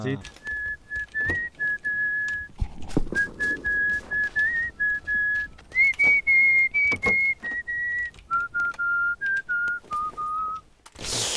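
A person whistles a tune in clear, sustained notes that step between pitches in short phrases, close and fairly loud, broken by sharp clicks and knocks, with no talking over the melody.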